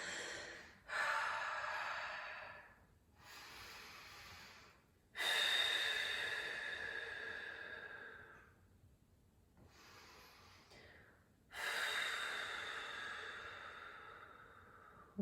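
Several people breathing slowly while holding a yoga hip stretch in a class; long, audible exhales come in three or four waves separated by quiet pauses, with no talk.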